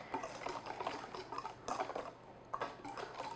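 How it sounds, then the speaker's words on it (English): Butter is whisked gradually into cherry cake batter. The whisk makes quick, soft, irregular clicks and scrapes against the bowl, close and fairly quiet. "We'll just add our butter. I'm doing it gradually and just whisk,"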